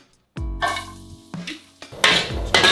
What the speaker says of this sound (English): Stir fry that for just a few seconds.